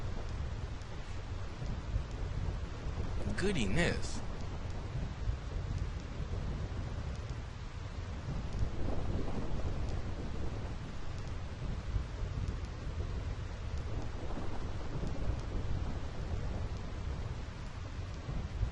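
Thunderstorm ambience from the video game Final Fantasy X: a steady wash of rain and low rumbling thunder throughout, with a brief sharp crack early on and a few swelling rumbles later, one short word spoken.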